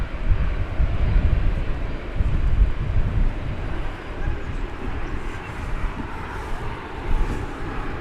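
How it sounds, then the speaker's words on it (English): A Delta Airlines Airbus A320 arriving at DFW Airport from Atlanta, a low, steady jet rumble heard from a distance through heavy wind buffeting on the microphone. "this Delta Airlines Airbus A320 coming in from Atlanta"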